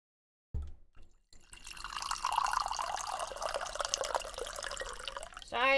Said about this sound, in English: every time I pour my water, it's really loud